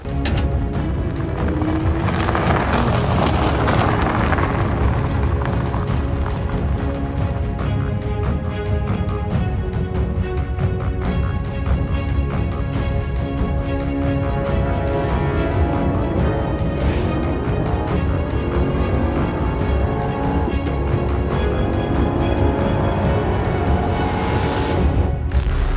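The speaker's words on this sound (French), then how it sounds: "tester un petit peu les accélérations fulgurantes de cette Mercedes AMG GT 843 chevaux" A Mercedes AMG GT 63 S E Performance, an 843-horsepower electrified hybrid in sport mode, accelerating hard: a loud, continuous engine roar with rising and falling pitch through the gears, close and sustained throughout.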